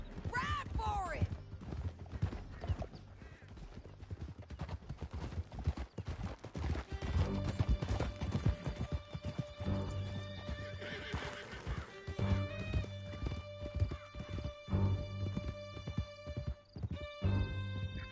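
Horses gallop hard and neigh in a Red Dead Redemption 2 chase through a canyon, hooves clattering steadily under tense music and shouted voices.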